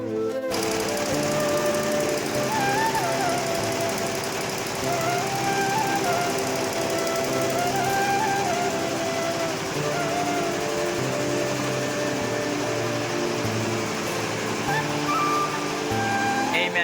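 A computer embroidery machine runs loud and steady, its rapid needle stitching forming a dense, unbroken mechanical chatter that lasts throughout.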